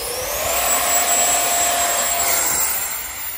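An E-Flite Viper 64mm electric ducted fan jet spins up to high throttle for a hand launch, giving a loud, steady whine and rushing roar that holds close and constant.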